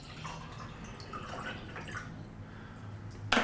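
Water poured or dripping into a container for mixing with baking soda, a steady liquid trickle with a louder splash at the very end.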